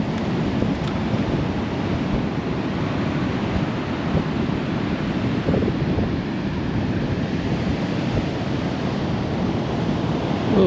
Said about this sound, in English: We'll stop here in the ocean in Oregon, a couple miles from our RV.